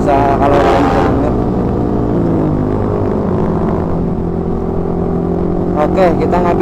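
Motorcycle fitted with a Yoshimura USA exhaust rides through traffic in central Jakarta, its deep, bassy drone running steadily and loud the whole time with slight rises in pitch, while someone talks over it.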